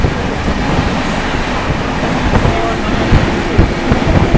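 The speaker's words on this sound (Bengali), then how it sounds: "ট্রেন টানতে শুরু করেছে, প্রচুর জোরে টানছে" The 13147 Uttarbanga Express from Kolkata toward Darjeeling runs at about 130 km/h, a loud, dense, continuous rumble and roar of wheels on rails with a faint clatter from inside the coach.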